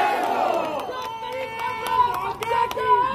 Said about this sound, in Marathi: एकदा तुमच्या पार्टीसाठी, तुमच्या नेत्यांसाठी, तुमच्या विचारासाठी एकदा जोरदार जल्लोष होऊ द्या